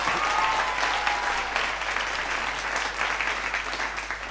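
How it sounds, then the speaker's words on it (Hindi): Audience applause at a Hindi hasya kavi sammelan, a comedy poetry gathering, with a dense, sustained clapping from a large crowd that carries on steadily throughout with no voice over it. "ताली बजाइए।"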